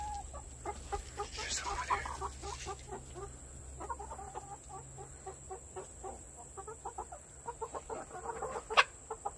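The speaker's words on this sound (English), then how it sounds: "Just wanted to sort of introduce some of the chickens and feed them some treats." Backyard chickens cluck and murmur steadily while being fed treats, with soft rapid pecking and scattered louder squawks near the end, fairly close, with a faint background hum.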